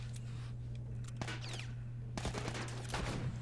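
Video game gunfire from The Last of Us Part 1 crackles in several sharp bursts of rapid shots over a steady low hum, loud in the foreground.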